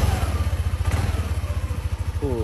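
A 2023 Yamaha NVX 155 ABS scooter idles at a steady, even putter, a regular low throb that stays close and moderate with no revving.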